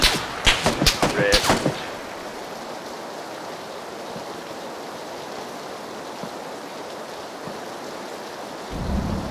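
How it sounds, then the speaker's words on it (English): A quick volley of several sharp gunshots cracks in rapid succession in the battle-royale game PUBG, followed by a long stretch of quiet hissing ambience. "That's crossfire somewhere."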